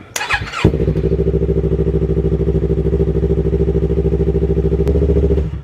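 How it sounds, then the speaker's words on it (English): A Yamaha R3 motorcycle, fresh from a spark plug replacement, cranks briefly with a short whine and then fires into a steady, loud idle. The engine keeps a close, even, throbbing rhythm for several seconds with no talking. "now you want to go ahead and start the bike to make sure everything is working properly"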